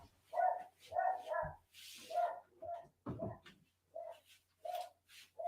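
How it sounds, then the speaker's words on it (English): A dog barks repeatedly indoors, with sharp close barks in uneven bursts and short pauses, a few higher yips mixed in, and no talking over it. "my dog's going ballistic."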